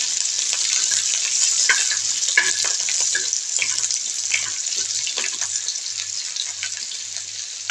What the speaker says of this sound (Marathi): लसूण आणि मिरच्या टाकून चांगलं लाल होईपर्यंत भाजून घ्यायचं.